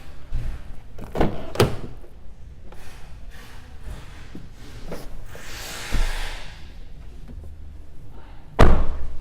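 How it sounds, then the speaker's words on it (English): The split rear seat back of a 2011 Kia Optima EX folding down: several sharp thumps and clunks with quieter handling rustles between, ending in one loud close slam. "Pull the tab on either side allows the split seat back to fold down to accommodate longer cargo items"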